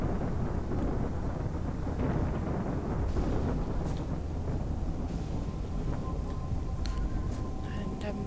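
A blowout in a survival shooter set in the Zone rolls on as a steady, dense low rumble for the whole stretch, with windy roar and a few faint higher crackles near the end.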